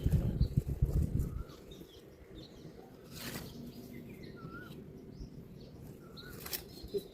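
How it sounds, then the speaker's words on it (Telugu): Small birds call outdoors on an evening near a papaya tree, with scattered faint chirps and short whistles spread across the clip, after a brief burst of low rumbling noise at the start. "పిట్టల అరుపులు."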